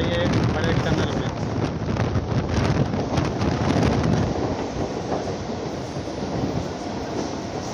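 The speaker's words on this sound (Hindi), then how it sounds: "देख सकते हैं अपनी ट्रेन एंट्री ले रही है एक बड़े टनल में।" A Mumbai local train running into a big tunnel on the line from Chhatrapati Shivaji Terminus to Kalyan Junction, with a loud, steady rumble and rattle of the cars filling the whole stretch, plus some wind buffeting.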